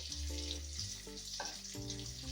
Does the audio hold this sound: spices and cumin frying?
yes